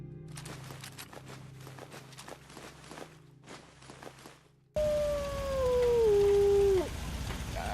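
Footsteps patter along, then a creature in Fallout 4 lets out a loud, drawn-out mournful howl that slides downward over about two seconds before cutting off.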